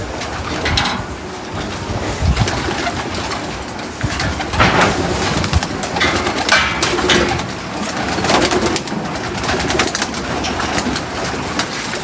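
Pigeons cooing in a loft at feeding time, a dense, continuous chorus of soft coos close by, with rustling and shuffling mixed in and no talking.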